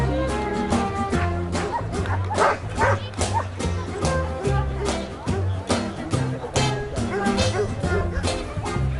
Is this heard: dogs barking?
yes